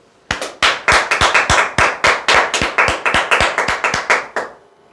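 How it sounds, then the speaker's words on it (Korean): Loud, close hand claps come in a quick irregular burst of about twenty, sharp and crisp, with no voices underneath. "박수!"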